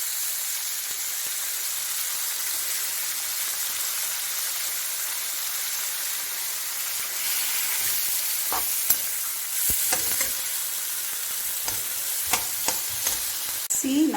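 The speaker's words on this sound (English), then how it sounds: "we're going to put the spinach and the green chilies in this" Spinach and green chilies sautéing in a pan, heard as a steady close sizzle with occasional stirring scrapes and clinks in the second half, with no talking.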